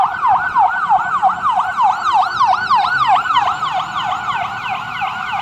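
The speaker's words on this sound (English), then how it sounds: "I'll let the siren get past." Emergency vehicle siren wailing past, a rapid repeating up-and-down yelp, loud and close, continuous over steady road traffic noise.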